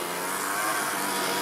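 Four-stroke overhead cam engine fitted in an RC Land Rover car, a steady, close, buzzing engine drone holding a fairly even pitch for a brief moment.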